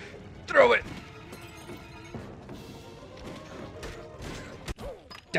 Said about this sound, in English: Alright, grab me a glass bottle.